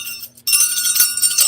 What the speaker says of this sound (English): Jingle Jangle Bells.